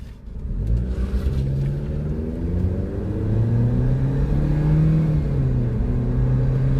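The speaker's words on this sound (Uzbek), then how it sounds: "Avtomobilimiz o'zi gazda harakatlanmoqda." Car running on gas engine, driving along as the engine revs up and holds a steady, rising hum, a close continuous rumble with no voices.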